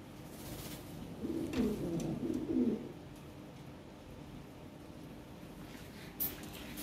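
Lahori pigeons coo in a low, throaty burst of a few rolling calls lasting under two seconds, close by amid a faint background murmur.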